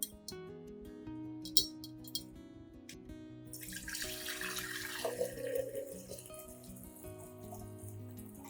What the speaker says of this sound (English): I will use 1/2 a lime mixed with about 2 liters of clean water, stirring well to create a diluted solution